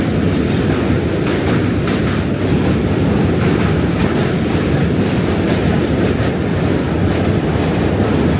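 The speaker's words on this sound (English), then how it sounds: "The train on the far end, that's the extra noise." Train at the far end of a New York City street, heard during a morning walk in Manhattan: a loud, continuous rumble and rattle with faint rhythmic clatter, steady throughout, with no talking.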